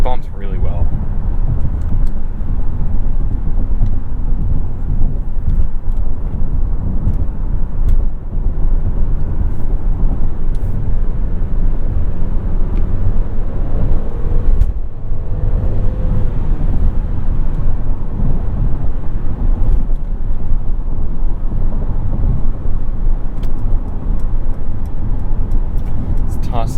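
Cabin road noise in a 2021 Mercedes-Benz GLC 300 4Matic on the move, a steady low rumble with occasional bump thuds and ticks, heard under someone talking throughout.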